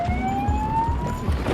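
Siren wailing from an unmarked police car fitted with lights and sirens during a pursuit: a steady, slowly rising tone sounding continuously over a low, pulsing engine rumble.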